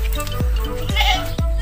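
Goats on a farm where a doe has just given birth to kids, three short, close bleats spaced evenly over a steady low background rumble.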